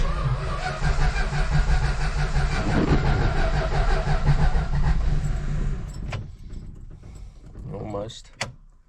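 An old Chrysler V.I.P. engine cranks and fires, running as a steady rumbling idle for several seconds before fading, followed by brief clicks and mechanical rattles, with a voice speaking briefly.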